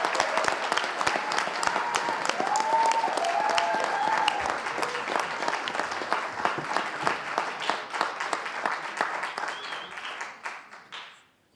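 An audience at a French high school eloquence and debate contest gives sustained applause as a speaker is called up. The dense clapping gradually thins out and fades, with brief voices heard under it.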